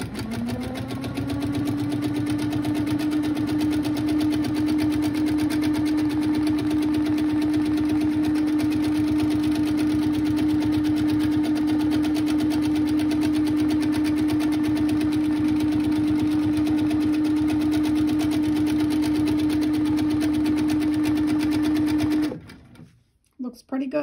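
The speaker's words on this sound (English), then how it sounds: "So let's go ahead and stitch that out." A sewing machine runs continuously at high speed while free motion quilting a practice panel, a close, even mechanical whir with fast needle rattle lasting over twenty seconds before it abruptly stops.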